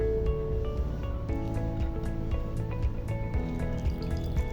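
Carrot juice squeezed by hand drips and trickles steadily into a container, a close, soft patter of droplets with small liquid splashes and no talking.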